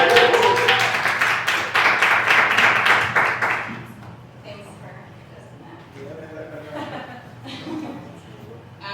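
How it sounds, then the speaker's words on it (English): An audience claps loudly and continuously for about four seconds to welcome a poet to the stage at a spoken word event in a recording studio, then the applause fades into quieter murmurs and a few voices. "Everybody welcome Keisha to the stage. Give a round of applause."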